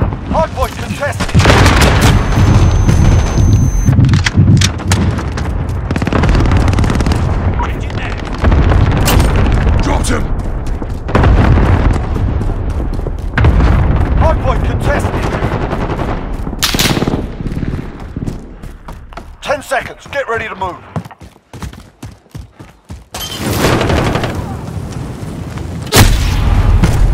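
Gunfire and explosions in the video game Call of Duty Modern Warfare, with dense bursts of shots and heavy booms in loud clusters separated by short lulls, while in-game voices call out over the combat.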